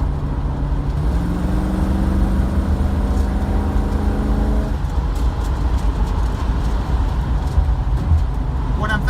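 A Gold Duster with a 360 engine has its throttle jabbed while driving, giving a loud rising engine drone that climbs in pitch, then drops back into steady road and drivetrain rumble.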